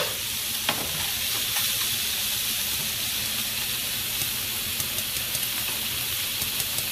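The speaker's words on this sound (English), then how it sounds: "What I'm going to do is brown the sausage on both sides" Sausage browns in a hot pan with a steady, close sizzle and crackle that runs unbroken, with faint scrapes and pops scattered through it.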